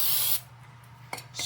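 A brake cleaner aerosol sprays into an outboard motor in a short, loud hissing burst, followed by a quiet pause, a brief click, and a second spray starting.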